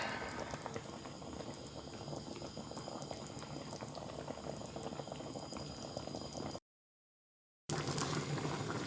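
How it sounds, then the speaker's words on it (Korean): Shepherd's purse shabu-shabu broth boiling steadily in a pot, a dense continuous bubbling that stays loud and even throughout, with a brief gap of silence near the end before the boil resumes. "이렇게 해서 10분 정도 더 끓인 다음에"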